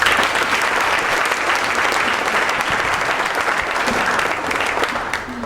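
Loud, dense audience applause at a U.S. Senate candidate forum, a sustained roar of clapping that holds steady and then eases slightly at the end.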